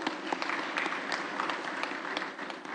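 An audience clapping, steady continuous applause from a crowd at a parliamentary event, moderately loud and close throughout.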